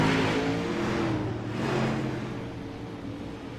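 Race cars circle slowly under caution, their engines droning together in a steady low rumble that swells and fades a little as they go by. No voices.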